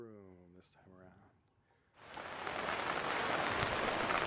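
Steady broadband hiss of rain, heard from inside a tent, begins about halfway through, following a stretch of voiced sound, and continues loud and unbroken to the end.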